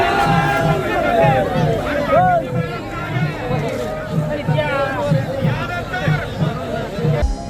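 A large crowd gathers at the Bavdhan Bagad village fair (yatra) near Satara. Their steady, dense hubbub of many voices fills the whole stretch, and a regular, low, drum-like thump pulses beneath it.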